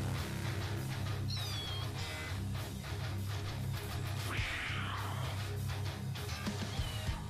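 A person imitates a cat with several drawn-out meows, close to the microphone, over dense video game sound and music during a game stream.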